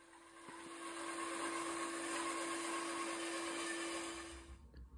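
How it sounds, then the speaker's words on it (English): A steady, loud bandsaw whine with a sustained tonal hum runs for about four seconds while sawing wood veneers for marquetry, then cuts off abruptly. "We'll start by sawing our veneers."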